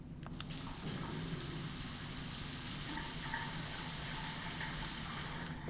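Water from a shower in the Metro Sim Hustle video game runs as a steady, moderately loud hiss and gush that starts abruptly and continues unbroken, with no talking.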